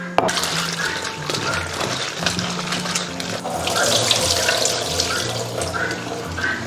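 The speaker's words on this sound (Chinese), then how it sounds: "然后我们把这些香料先给它清洗一下" Sichuan peppercorns, fennel, cloves, lantern chilies, crushed tsaoko and licorice are rinsed under a running kitchen tap. The water streams loudly and continuously, with a few light clinks and splashes in the sink, and no one speaks.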